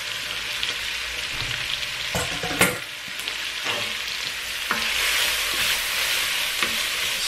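Onions or other alliums sweat in a pan with rendered guanciale, a steady close sizzle with scattered stirring scrapes and one sharp clack of a utensil, the frying growing slightly louder toward the end.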